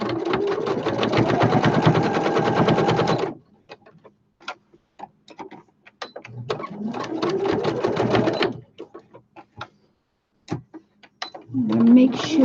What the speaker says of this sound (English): I'm going to sew them on here with a straight stitch.